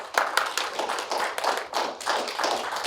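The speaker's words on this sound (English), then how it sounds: "Let's give our three elected officials a round of applause for spending time with us this morning." A small morning legislative breakfast crowd applauding three elected officials, a dense, steady patter of many hands clapping that holds throughout with slight swells; moderately near, with no speech over it.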